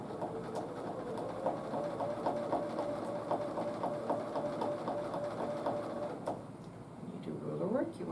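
A sewing machine does free-motion couching with a ruler foot along a wavy ruler: rapid, even stitching chatter up close, which pauses near the end before a brief rising whirr.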